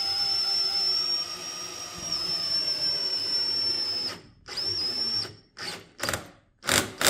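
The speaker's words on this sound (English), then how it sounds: "I'm going to keep my drill on a pretty low setting because, again, I don't want to overpower this and split the wood." A cordless drill on a low setting drives a screw into wood near the edge of a board for a wall-mount coat rack. A steady high whine runs for about four seconds, then short stop-start bursts follow, close up with no talk.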